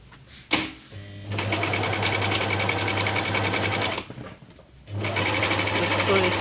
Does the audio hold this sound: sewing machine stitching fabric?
yes